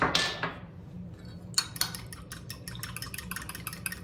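A spoon clicks and scrapes rapidly against a bowl, a steady run of light taps as eggs and water are whisked for homemade noodles, after a brief clink at the start.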